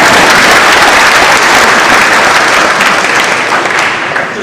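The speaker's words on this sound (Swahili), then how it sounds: "Kwani mnakwenda kunipigia makofi za gani?" Loud, dense audience applause fills a hall at a university event in Mt. Kenya University, sustained clapping from a large crowd that tapers slightly near the end.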